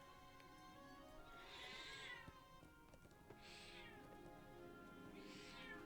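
A cat meows three times at a steady pace, each call drawn out and close, with a faint background hum and no talking.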